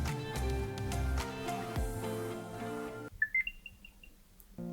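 Apple AirTag setup chime: a quick run of small, bright rising tones, soft and close, sounding alone after the louder music fades out.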